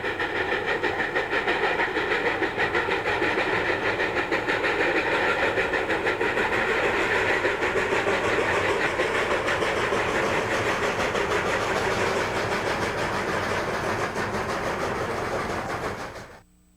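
A Durango and Silverton narrow gauge train rolls past with a loud, steady rumble and rhythmic wheel clatter that holds throughout, then cuts off abruptly at the end.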